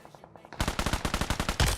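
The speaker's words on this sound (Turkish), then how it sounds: "Yanlışlıkla adam vurdum." Automatic gunfire in the battle royale video game PUBG: after a quiet moment, a rapid, loud burst of evenly spaced shots runs on for about a second, with a heavier shot near the end.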